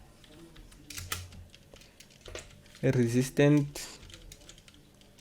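Keys clatter on a computer keyboard in a few short bursts of quiet typing, with a voice speaking briefly over it.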